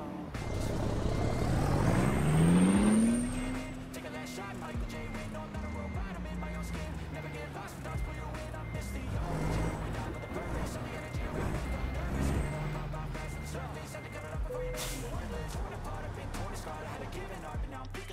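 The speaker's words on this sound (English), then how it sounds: "but I don't like the sound of the engine" A truck engine drones in American Truck Simulator, a low rising then falling tonal whine with reversing-beep-like tones and an air-brake hiss, steady and close throughout.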